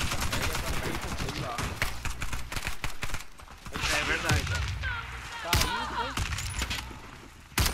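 Rapid cracks of gunfire in the video game Warface pop in quick bursts while people talk excitedly over the shots.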